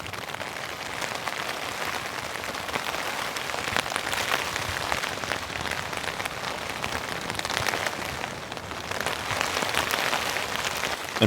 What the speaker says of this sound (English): the rain has commenced. It's pretty nice and gentle at the moment